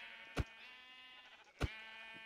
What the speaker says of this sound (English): I don't want to accidentally kill this sheep that's sitting there on the side